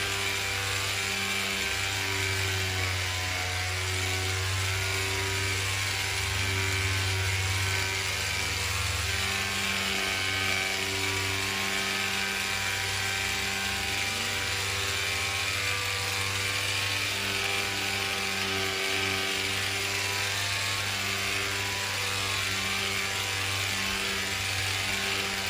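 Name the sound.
polishing machine removing sealant from aluminum camper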